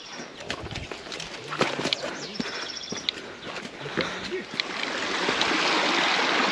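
A forest stream of Shetrunji water in the Palitana hills babbles steadily nearby, with scattered knocks and clicks and occasional faint voices over the flow.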